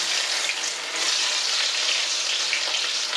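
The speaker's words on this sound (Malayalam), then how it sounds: "തിളച്ച എണ്ണയിലേക്ക് കുറച്ച് ഏലക്ക പട്ട ഗ്രാമ്പൂ ഇട്ട് കൊടുക്കുക" Cardamom, cinnamon and cloves fry in hot coconut oil for a beef liver roast, giving a steady, loud, close sizzle that runs unbroken with no voices.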